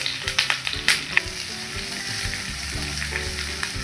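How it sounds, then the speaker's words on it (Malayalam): Chopped onion and curry leaves sauté in hot oil in a pan with a loud, steady sizzle, while a spoon gives several sharp clinks and stirs early on. "ഒരു ചെറിയ സവോള അരിഞ്ഞതും ഒരു 2 കറിവേപ്പിലയും കൂടെ ചേർത്ത് കൊടുക്കുകയാണ്"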